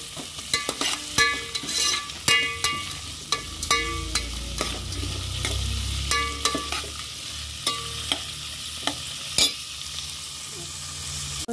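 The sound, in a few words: onions and mustard seeds frying in a pan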